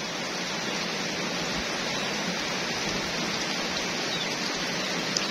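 Steady rainfall hissing evenly throughout, a dense wash of drops on surfaces with no voices or other sounds standing out.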